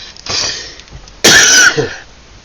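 Two short coughs, the second harsher and louder, heard close up with a little room noise in between.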